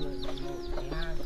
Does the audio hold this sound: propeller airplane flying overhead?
no